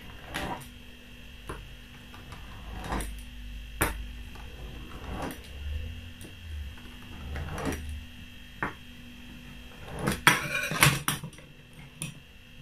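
A knife taps and presses against a board as coconut chin chin dough is cut into shapes, giving sparse, irregular clicks with a quick burst of faster knocks near the end, set against a steady low hum.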